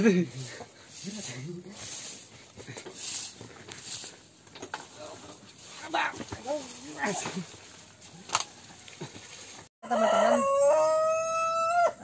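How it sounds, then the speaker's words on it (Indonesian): A rooster crows loudly near the end, a rising, strained call, after a stretch of murmured talk and background farm noise. "suara ayam"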